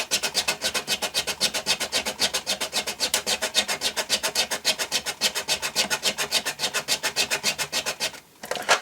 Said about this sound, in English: So I have some small needle files here, and I'm just going to use that to very carefully file this down.